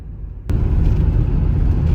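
Pickup truck engine droning steadily while driving on the road out of Milwaukee, a low constant rumble that swells suddenly about halfway through and then holds loud and even, with no voices.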